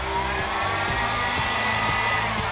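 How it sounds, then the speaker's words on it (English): A hot-air tool blows steadily over a laptop's vinyl wrap to soften it, giving a constant loud whooshing hum with no speech. "So what I'm going to do is apply a little bit of heat just in that spot."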